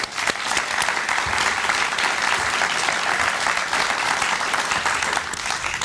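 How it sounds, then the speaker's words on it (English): An audience at a Boy Scouts of America distinguished citizen award reception breaks into sustained, even applause, loud and continuous for several seconds without talk. "I think that deserves a round of applause"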